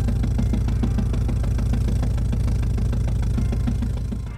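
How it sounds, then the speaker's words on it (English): A synthesized inline four-cylinder engine of a Stöber R200 Spezial idles steadily with a rough, low, evenly pulsing rumble, loud and close with no talk, easing off slightly at the end. "start up one of the new engines, the inline four-cylinder engine of the Stöber R200 Spezial"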